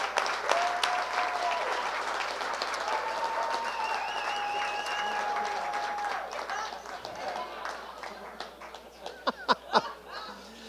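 A crowd at the World Snow Sculpting Championship kickoff in Stillwater, Minnesota applauds a snow sculpting team with sustained clapping and some cheering, thinning out into a few scattered, louder claps near the end.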